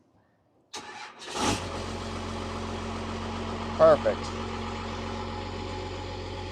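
An old, long-abandoned Dodge cranks briefly and catches, then settles into a steady, slightly high idle with a low rumble close by; a short spoken remark breaks in partway through.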